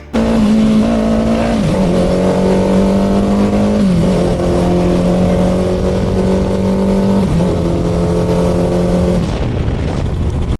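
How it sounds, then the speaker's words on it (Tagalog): A steady, loud ZX-6R sport motorcycle engine drone runs throughout, its pitch holding level with a few brief dips as the revs shift, no voices over it. The engine's sound has changed before it blows. "Napansin kong nag-iba na ang tunog ng motor ko"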